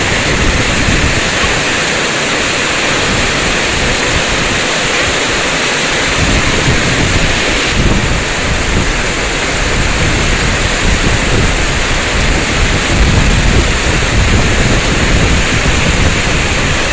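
Heavy rain pours down hard with water running and soil washing away, a dense, loud, unbroken roar of hiss and splatter that fills the whole stretch with no voices.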